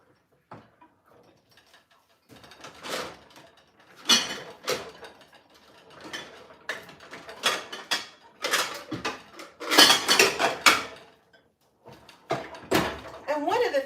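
Dried dishes, pots and cutlery being put away in a home kitchen: a run of clinks, clatters and metallic rattles at varying loudness, with a couple of louder clusters of clanking and brief cupboard or drawer sounds.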